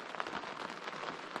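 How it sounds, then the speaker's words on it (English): Steady rain patters on a tent at dawn in the Gaspé mountains, a dense, even hiss of drops close overhead with no voices, continuous through the short stretch. "It's not fun to have to crawl out of the tent into the rain first thing in the morning."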